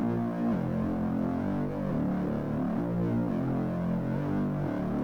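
A thick, buzzing distorted bass synth rumbles low and loud, with gritty fuzz and slow throbbing pitch movement.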